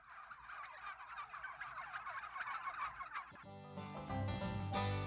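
Turkeys gobbling in Cuero, Texas, a dense chorus of repeated gobbles throughout that swells into louder, fuller calls toward the end, with no voices.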